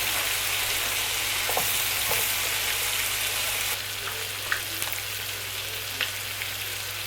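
Onion and bacon frying together in a hot pan, a steady close crackling sizzle with scattered small pops, continuing alone without speech.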